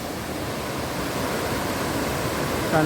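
A steady rush of flowing water, like a stream or small cascade, fills the whole stretch evenly with no pauses.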